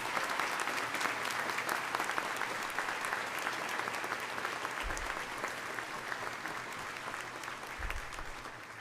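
At a spring quarter graduation, a large audience gives sustained applause for a conductor and a brass band. The dense, even clapping fills the hall and fades slightly toward the end.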